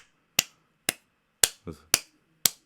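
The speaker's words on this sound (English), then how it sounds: "Here's my clap." Sharp, isolated clap-like snaps ring out about six times at an uneven pace, each loud and close in an otherwise quiet space, with one duller, lower knock among them.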